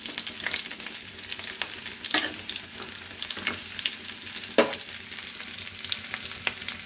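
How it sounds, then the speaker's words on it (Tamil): Curry leaves, ginger and a lump of asafoetida cook in ghee for a ghee pongal offering, giving a steady, close sizzle. Scattered stirring clicks and a couple of sharper knocks sound over it, with no voices. "கொஞ்சம் கருவேப்பிலை போட்டுடலாம்."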